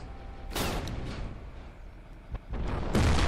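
In the Garry's Mod video game, a tank's ammo box detonates with sharp, booming blasts; several bursts of explosion noise rise and fall over a few seconds, closing with a loud final crack.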